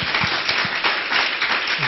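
A church congregation claps loudly together, a dense sustained burst of many hands with a rough rhythmic pulse, close and filling the space, with no voices over it.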